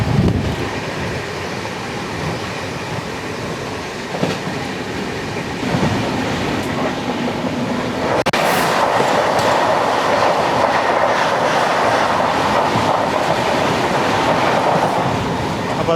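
The 16315 Mysuru–Thiruvananthapuram North Express runs on rails with a loud, steady rumble and rhythmic wheel clatter that grows fuller partway through, with no voices.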